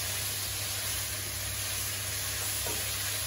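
Chicken stir fry with vegetables and chilli being stirred in a pan, a continuous close, loud sizzle with faint scraping of the stirring and no voices.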